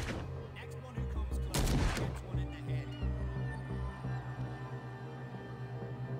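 Gunfire from a gun in the Call of Cthulhu video game, a burst of loud sharp shots in the first two seconds over a steady droning game soundtrack.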